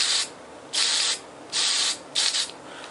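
Spray paint hissing from an aerosol can onto a 4 watt preheat fluorescent strip light fixture, three bursts of roughly half a second each separated by short pauses, close and fairly loud.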